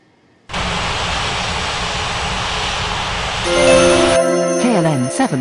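A jet airliner powers up for takeoff in the Unmatched Air Traffic Control game, a loud, steady broadband engine roar that starts abruptly and swells, with rising whining tones near the end.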